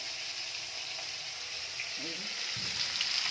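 Fish frying in hot oil gives a steady, fairly loud hiss and crackle that runs unbroken from start to finish, with a few faint low knocks partway through and no talking over it.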